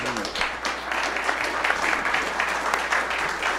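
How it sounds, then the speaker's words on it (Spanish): Audience at a talk during a Lima festival at PUCP applauds steadily, a dense continuous patter of many hands at moderate loudness with no speech. "Un aplauso para..."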